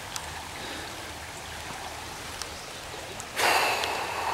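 A flowing creek close by after rain, a steady broadband rush of water that swells suddenly louder near the end, with no talking over it.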